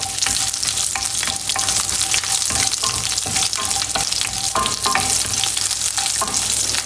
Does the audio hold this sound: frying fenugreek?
yes